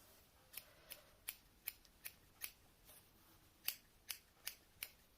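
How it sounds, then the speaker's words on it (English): Scissors snipping wool fur on a needle felted Highland cow, about a dozen crisp close snips at a steady, slightly uneven rhythm, clear and isolated in a quiet room. "We're going to snip into it to try and take some of this thickness out of it."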